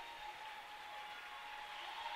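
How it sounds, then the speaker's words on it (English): Steady applause from a college men's basketball bench and crowd in a gym, a dense, even wash of clapping holding at moderate level throughout. "As the bench rises and it's clapping it up."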